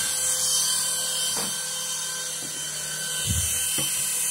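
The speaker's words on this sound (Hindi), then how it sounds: "ये बहुत पंखे की तरह हवा देने लगा एंड लाइट भी जलने लगा" A small motor in a flashing LED ball toy spins like a fan, a steady high-pitched whir and hiss near at hand, with a few brief low bumps of handling.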